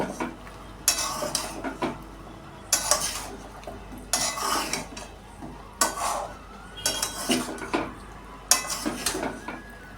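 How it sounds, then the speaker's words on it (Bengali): Mixed vegetables including green banana and beans being sautéed with spices in a pot for a Jagannath besar prasad, rhythmic scraping and clinking of a metal ladle in bursts over a faint sizzle. "সমস্ত সবজিগুলো দেওয়া হয়ে গেছে ভালো করে মশলার সঙ্গে একটু কষিয়ে নেব"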